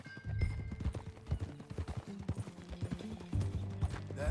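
Horse hooves clip-clop steadily in Red Dead Redemption 2 as riders travel together, a brisk rhythmic trot of close, distinct hoofbeats with faint mechanical clinks and tack rattles mixed in.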